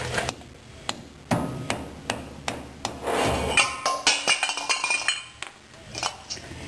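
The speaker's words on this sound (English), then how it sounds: "soft face hammer." A soft face hammer taps repeatedly on front brake parts of a 1935 Chevy, sharp metallic knocks and clinks in an uneven rhythm, close and fairly loud.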